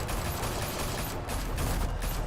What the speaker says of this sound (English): По Бэтмену стреляют?